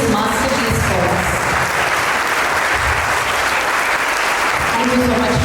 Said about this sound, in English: a loud round of applause for creating this masterpiece for us